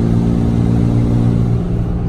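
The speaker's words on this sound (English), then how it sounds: "I'm gonna be showing you how the stock intake sounds with the silencer ring on" A 2005 Cummins diesel truck with stock intake and turbo silencer ring, a loud, steady low engine drone dominated by exhaust rumble, with only a faint hiss above it and no talk.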